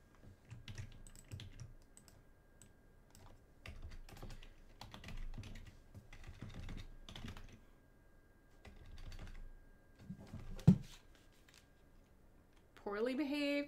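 Fingers typing on a wireless computer keyboard, quick clusters of close, crisp key clicks in irregular bursts with pauses, ending in a short stretch of speech.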